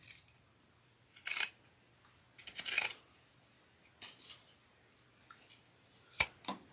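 Pinking shears snipping through fabric in several separate crisp bursts of cutting, close and fairly loud against a quiet room, with short pauses between cuts and no talking.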